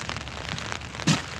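Rain patters on a surface nearby, a dense crackling hiss with one louder splash toward the end.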